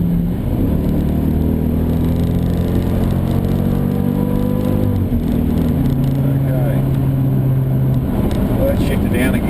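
A supercharged 2014 Jeep SRT8 Grand Cherokee accelerates on the road, its engine note climbing steadily in pitch under a constant rush of road noise, with someone talking over it from inside the cabin.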